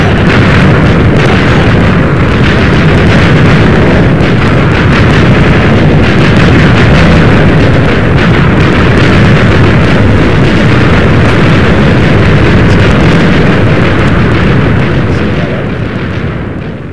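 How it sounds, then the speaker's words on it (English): Minecraft TNT explosion, a loud continuous roaring chain of booming blasts that fills the whole stretch and tails off at the end. "I'm just gonna trigger the explosion, and away we go"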